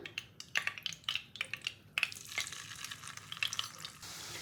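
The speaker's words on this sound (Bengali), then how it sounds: "বাদ বাকি চিকেনগুলো আমি তেলে ছেড়ে দেবো এক এক করে" Chicken pieces being dropped into hot oil for deep frying, producing soft crackling sizzles and intermittent bursts with light clinks, fairly quiet and close, no speech.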